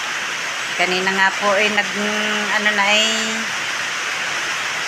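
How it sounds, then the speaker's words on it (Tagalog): Heavy rain pours onto a school building's roof in Calaca, a steady broadband hiss running throughout while someone talks over it. "naririnig po siguro ninyo ang patak sa bubong ng ulan"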